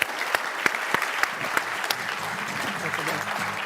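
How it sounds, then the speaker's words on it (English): Audience applause for a leadership panel at a lunch event, a steady patter of many hands with a few sharper individual claps, fairly close and fading slightly toward the end. "Can we give another round of applause for this amazing, amazing panel of information?"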